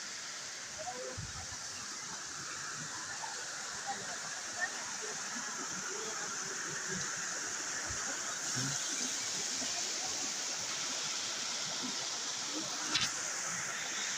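Steady rushing water of a stream or small cascade near a hot spring, a constant broadband hiss with occasional faint thumps and voices barely audible.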